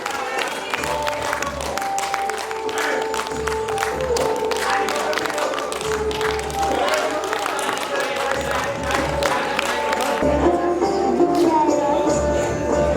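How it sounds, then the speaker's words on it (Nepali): An audience at a national entertainment awards ceremony in Nepal applauds the minister, with sustained, steady clapping and crowd noise lasting throughout, while music and voices carry on underneath. "हामी थोरै छौँ तर ताली धेरै बज्नुपर्छ मन्त्रीजीको लागि"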